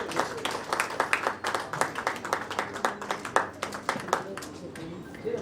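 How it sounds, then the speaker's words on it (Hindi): Audience clapping at a Women's Day event organised by a charitable foundation, a steady patter of hand claps with mixed voices and talk over it throughout. "मैं जोरदार तालियों के साथ स्वागत करेंगे।"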